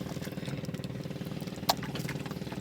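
A single gasoline engine drives a boat out at sea, producing a steady, continuous throbbing drone with an even rhythm and one brief click partway through.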